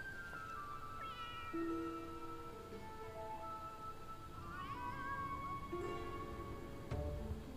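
A cat in Final Fantasy XIV meows repeatedly, clear drawn-out cries with pitch glides, several calls spaced over a few seconds against a busy game background.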